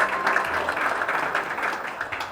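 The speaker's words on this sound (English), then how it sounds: "Please give her a big round of applause" An audience at an anniversary gala dinner applauds steadily, a moderately loud wash of many hands clapping at a distance with no talk on top.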